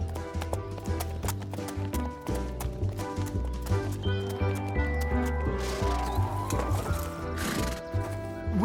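Horses' hooves clip-clop steadily on a crowded city street in Calcutta, a continuous rhythmic patter under a dense bed of low music and ambient noise.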